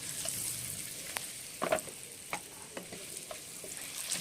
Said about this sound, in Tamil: ஒரு 2 நிமிஷத்துக்கு அப்படியே வறுவட்டும்.